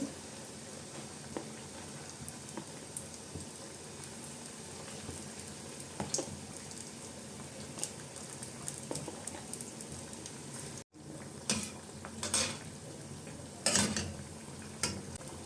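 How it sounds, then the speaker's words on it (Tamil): Banana fritters sizzle steadily in hot frying oil, a dense, crackling hiss that stays close and constant, with a few scattered pops and utensil clinks over it and no talking. "லேசாக அந்த சலசலப்பெல்லாம் அடங்கினோன்னா அப்படியே எடுத்துடலாம்"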